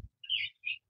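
Two short, bright bird chirps a moment apart, close and clear, with a faint low rumble beneath.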